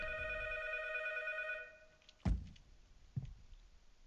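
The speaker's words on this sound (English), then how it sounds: "And the phone's ringing." A telephone rings in the horror game 12 Memory Lane with a bright, steady electronic tone that cuts off after about a second and a half, followed by a heavy thunk and a second softer knock, no one speaking.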